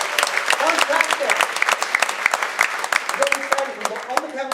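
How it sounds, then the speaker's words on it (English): A live comedy mind-reading show audience applauds, with sharp individual claps standing out from the crowd and a voice briefly calling over the clapping in the second half. "Give him a round of applause to go back to the audience."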